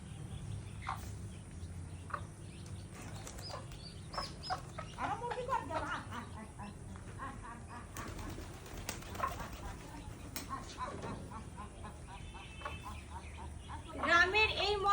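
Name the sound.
ducks, chickens and pigeons being fed in a village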